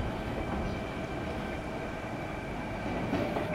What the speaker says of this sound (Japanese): 電車行きましたね。